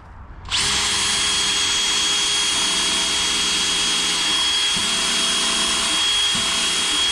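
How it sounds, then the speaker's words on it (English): A power drill bores a hole while a pressure washing trailer is being built, starting abruptly after a brief quiet moment and then whining loudly and steadily, with a few short dips in the motor's pitch near the end. "All right, so we're gonna drill right here."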